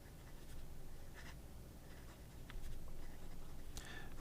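A Hongdian WA35 fountain pen with a fine number 6 steel nib writes on paper, making quiet, faint scratching strokes at an irregular pace over a low background hum.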